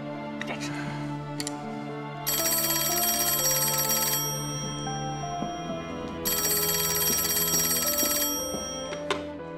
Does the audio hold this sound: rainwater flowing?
no